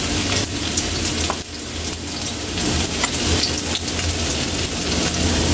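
Sliced ginger sizzles and browns in hot oil in a pan for a Filipino milkfish soup, a steady close crackling hiss with small popping spatters and no talk.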